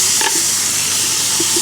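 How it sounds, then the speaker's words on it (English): Loud, continuous sizzle of steak frying in a hot Dutch oven, a bright crackling hiss with a few small pops, close up. "So you can hear that sizzle."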